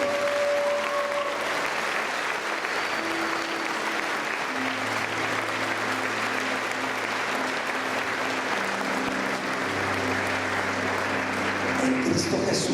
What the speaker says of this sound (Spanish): Si tú puedes darle un fuerte aplauso al Señor.